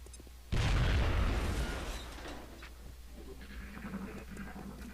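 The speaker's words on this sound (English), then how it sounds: "I'm going to have to use a grenade" Grenade blast in the XCOM video game, a single loud, deep boom that erupts suddenly, then rumbles and slowly fades under quieter game ambience.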